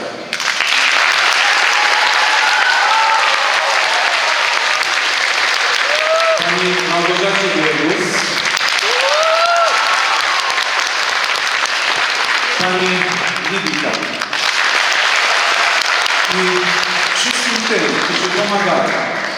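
Loud, sustained applause from an audience at a carol and pastoral song concert, dense clapping filling the hall for the whole stretch, with a voice speaking over it at times.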